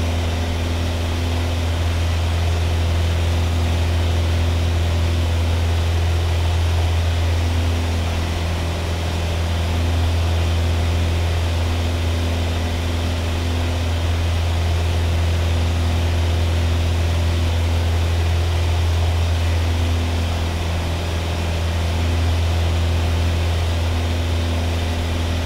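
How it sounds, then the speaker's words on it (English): A Piper Cherokee piston engine in a flight simulator drones loud and steady throughout, a rattling low hum that holds without pause from start to finish, with no talk over it. "Love the sound of that engine. Very loud, very rattling."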